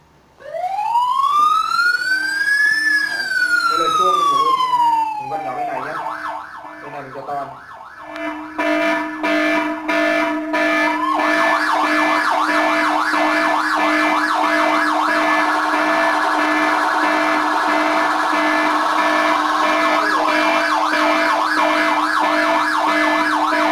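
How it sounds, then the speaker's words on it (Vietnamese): An anti-theft alarm plays a siren tone through an MP3 module. It opens with a loud wailing up-and-down sweep, then switches to a steady, harsh, pulsing electronic alarm blaring continuously and close. "còi hú một thời gian thì nó sẽ tự động ngắt, và tiếp tục nếu như mà có người di chuyển tiếp thì nó sẽ kêu"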